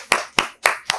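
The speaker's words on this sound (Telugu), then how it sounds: "అందరూ చప్పట్లు కొట్టండి." Children clap together in a classroom during a cheerful visit by Chief Minister Chandrababu Naidu, four sharp, evenly spaced bursts of claps in about a second, close and lively with no talk over them.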